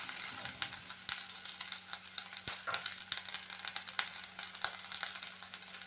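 Ingredients fry in a pan with a steady, bright sizzle, broken by occasional light clicks and taps of a utensil and no talking.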